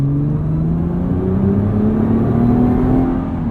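A 2022 Nissan GT-R Premium engine drones steadily under load while driving, its tone rising smoothly as the car accelerates, heard loud from inside the cabin with no talk.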